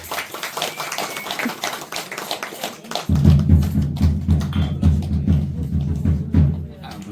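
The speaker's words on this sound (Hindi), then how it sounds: "ताली बजा रहे।" Guests at a wedding clapping together, a dense run of close hand claps that grows fuller and louder partway through, with a voice talking briefly underneath.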